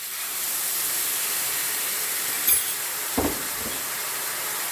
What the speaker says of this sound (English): Now I add in 1 cup of boiling water or stock.